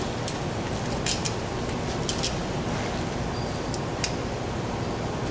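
A cable-stripping knife makes a strip cut down the insulation of a 15 kV power cable. It gives faint, scattered scraping clicks over a steady low hiss, close by.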